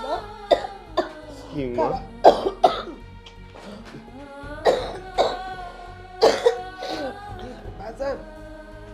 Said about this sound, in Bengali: তোমার কাশিটা কি এখনো কমে নাই মা?